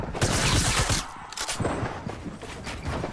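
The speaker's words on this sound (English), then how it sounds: "Somebody from the side shooting." Rapid automatic gunfire crackles in a video game firefight, dense overlapping bursts of shots that keep going with short gaps, loud and close.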